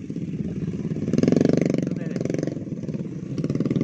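Small motorcycle engine labouring on a slippery, rain-soaked dirt trail, a close, pulsing putter that swells briefly as it revs, with someone talking over it.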